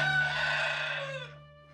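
A rooster crows loudly and close in a backyard flock, one long call that fades out, with a steady low hum underneath.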